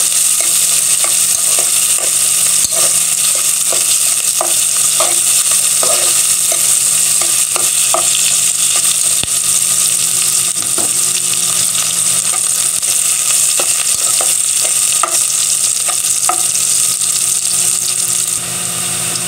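Ginger, onion and garlic sauté in a pan, a loud, constant sizzle with a scatter of light clicks and scrapes as a utensil stirs, alone with no talk.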